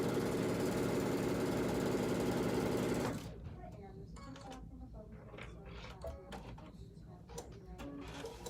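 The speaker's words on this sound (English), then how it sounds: "She's sewing really fast today." A sewing machine stitches quilt blocks for a table runner at high speed, its dense steady mechanical whir running loud for about three seconds before cutting off, followed by quieter clicks, handling noises and soft voices.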